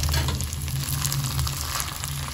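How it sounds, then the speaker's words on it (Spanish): Rice sizzling and frying in a little oil in a pan while it toasts golden for Mexican red rice, a steady close crackling hiss that holds throughout with no talk. "voy a agregar pues un chorrito de aceite y voy a poner a dorar el arroz o a freírlo"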